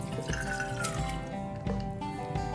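Water poured into a pressure cooker holding soaked toor dal for radish sambar, a short, close splashing pour with a steady tonal hum running underneath.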